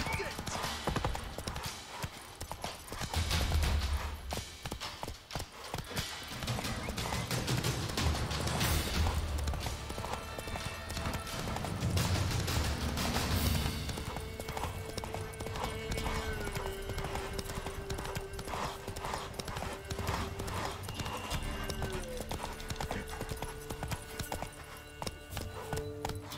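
Roach's hooves clip-clopping in The Witcher 3, a steady run of hoofbeats with game music and other in-game sounds underneath and faint voices at times.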